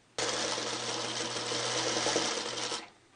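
A sewing machine back tacks along a quilt seam in one continuous, even mechanical whir lasting a few seconds, close and alone, then stops.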